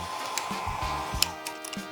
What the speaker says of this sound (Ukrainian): Класний фен, акумуляторний, гріє 550 градусів, дає 200 літрів за хвилину повітря